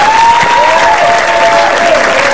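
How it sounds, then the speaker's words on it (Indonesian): Studio audience applauding on a televised Indonesian game show, a dense steady burst of clapping filling the room, with a faint sustained tone under it. "Coba saya mau minta tepuk tangannya dari voters dulu dong"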